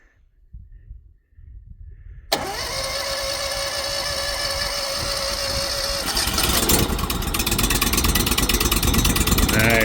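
A Honda engine on a Beaver Tech brush cutter pull-starts abruptly after a short quiet stretch, then settles into a loud, steady running drone close by that rises slightly in revs later on.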